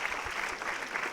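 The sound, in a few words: audience applause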